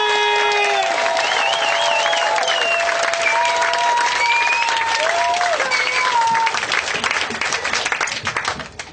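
Audience applause and cheering greet a comedian walking on stage at a comedy festival, a loud steady wash of clapping with whoops and whistles that carries through and thins slightly at the end.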